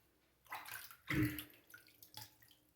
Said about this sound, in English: let me add some more water here